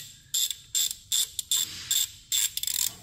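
A ratchet wrench loosening a 5 mm hex bolt on the low-pressure EGR pipe of a VW 2.0 TDI engine, giving close, crisp clicking bursts in about seven quick strokes with brief pauses between.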